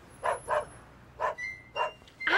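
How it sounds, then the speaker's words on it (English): A dog barks in a string of short yips, two quick barks, a pause, then several more, at moderate distance over a faint steady outdoor hum, with a bird chirp at the end, in a 1997 Barney children's program. "I hear a dog barking."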